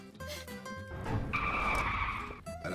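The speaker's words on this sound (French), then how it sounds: "Ah, la voiture en travers" Car skids sideways with a sustained tire squeal in Garry's Mod, a loud screech of rubber lasting a second or more, rising suddenly after engine noise and fading near the end.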